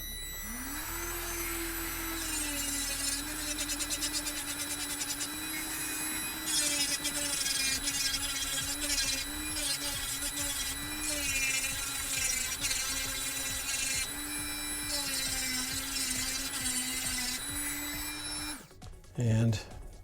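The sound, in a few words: rotary tool with drum sander attachment grinding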